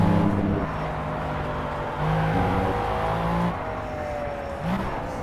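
A McLaren F1 racing in Project CARS at Le Mans snarls at high revs, with several quick downshifts marked by sharp engine blips in a steady rhythm, loud and close, with no talking.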